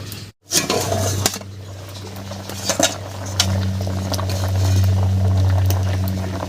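A metal lid lifted off a cooking pot of potatoes, garlic and green chillies, with a few sharp clinks and clatters over a steady low hum of the stove, close up, without talking.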